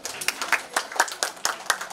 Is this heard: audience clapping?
yes